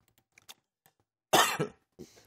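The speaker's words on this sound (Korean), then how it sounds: "자꾸 기침이 나네요" Quiet room, faint clicks, then a loud harsh cough followed by a second shorter cough and a softer throat clear, close to the listener.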